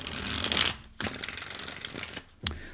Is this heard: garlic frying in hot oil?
no